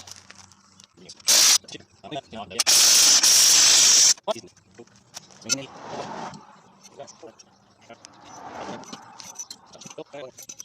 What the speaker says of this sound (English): I'm going to try with the impact, but I'm not going to hold my breath because it did not work on the other side.